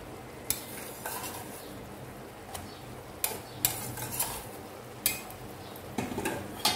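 Cooked rice being stirred and mixed in a pot for sweet coconut rice, with repeated scraping and clinking of a spoon against the metal in uneven bursts, fairly close and with no talking.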